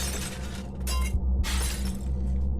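A glass trophy case shatters, a loud crash of breaking glass followed by bright bursts of falling shards that keep clattering on without pause.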